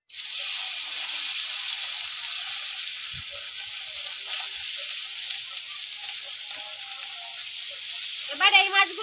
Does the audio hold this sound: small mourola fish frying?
yes